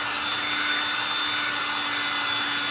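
A hair dryer blows steadily and loudly up close, drying a painted cross from Goodwill, with an even, unbroken whoosh and a faint tonal whine.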